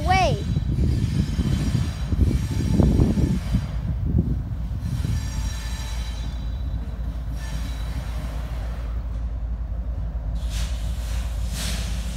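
A Union Pacific train rolls past nearby, wheels squealing and railcars rumbling steadily, with a brief voice early on before the continuous rail noise carries on alone.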